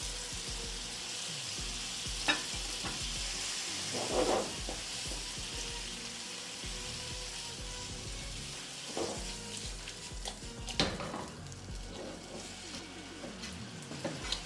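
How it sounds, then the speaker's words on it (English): Chopped tomatoes hit a hot pan for chili prawn linguine, a steady loud sizzle and crackle with occasional bursts of spitting and stirring, no voices. "And now we're going to get our chopped tomatoes in"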